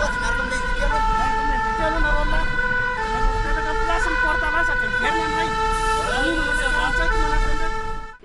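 A fire engine siren wails continuously, cycling through repeating tonal steps, loud and close, with engine rumble underneath.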